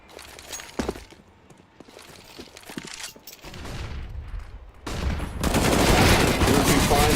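Counter-Strike: Global Offensive match play with scattered single gunshots and clicks that build into denser, louder bursts of rapid fire and a loud roar of firing near the end, heard amid game sound effects.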